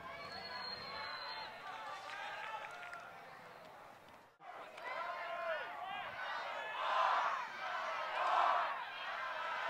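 Spectators at a live esports event murmur and cheer in a big hall. A broad, steady crowd roar rises in swells, with a commentator talking over it.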